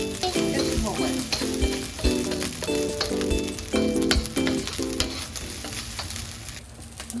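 Rice for pares frying in a pan and being stirred, a loud continuous sizzle with repeated rhythmic scraping and clanking of the utensil against the pan, close and without talk.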